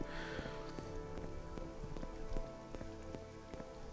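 Rain falls steadily in Morrowind, a soft, even patter with scattered distinct drop taps over a quiet background, fairly faint and continuous with no voices.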